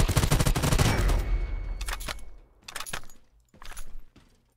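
Rapid automatic gunfire in the survival shooter Lost Light, a loud sustained burst followed by shorter separate volleys with gaps, no talk over it.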